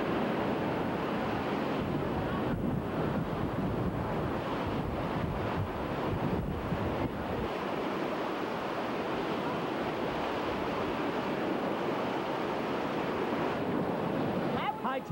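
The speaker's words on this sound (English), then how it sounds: "This morning, Ocean Drive took on a little too much ocean in some spots in Sea Isle City." Ocean surf churns during Tropical Storm Danielle along the shore at Sea Isle City, a loud, continuous wash of breaking waves with heavy wind buffeting the microphone throughout.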